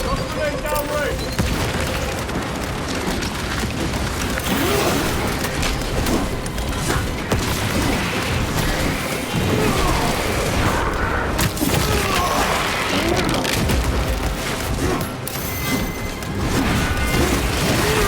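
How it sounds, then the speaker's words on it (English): Grenade blasts and battle noise in the video game Warhammer 40K Space Marine 2 form a dense, continuous roar of booms and crashes that stays loud throughout, with heavy low rumble layered under game voices. "Grenade downrange!"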